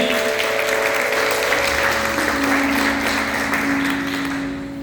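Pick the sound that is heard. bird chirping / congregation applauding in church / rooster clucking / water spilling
congregation applauding in church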